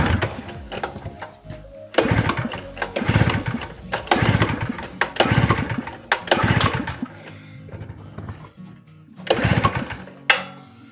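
Repeated pull-start attempts on a petrol generator during a repair, each cranking burst close and loud, about seven rhythmic bursts separated by short pauses, with no clear running engine.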